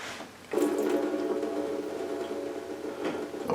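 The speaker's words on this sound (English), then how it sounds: "Always seems to be a lot more whey come out immediately after you turn them." Whey trickles and splashes steadily from freshly turned homemade Brie cheeses, a continuous close watery pour starting abruptly and running on alone.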